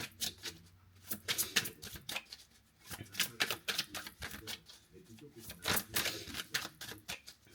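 Cards from a modern witch tarot deck are shuffled and drawn, making rapid papery riffles and flicks in uneven bursts close up, with quiet speech underneath.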